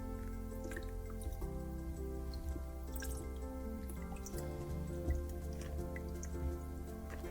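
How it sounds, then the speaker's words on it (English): Excess water drips and trickles from wet paper pulp pressed in a colander, a continuous patter of small drops close by over a low steady hum. "as it sits in the colander, you'll want to try to press out some of the excess water"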